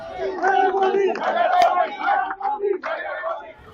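A crowd of supporters shouting and chanting together at an election rally held to file a nomination, loud, overlapping voices rising and falling in bursts nearby.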